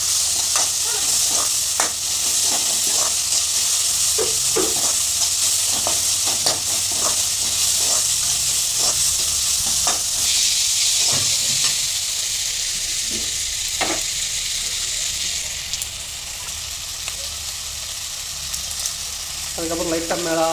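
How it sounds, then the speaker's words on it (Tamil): Tomatoes frying in a pan for a country chicken fry, a steady loud sizzle with repeated scraping stirs throughout and no talking. "நல்லா தக்காளி பழம் வந்து நல்லா உணங்குற அளவு நல்லா விட்டு ஃப்ரை பண்ணிக்கிறோம்"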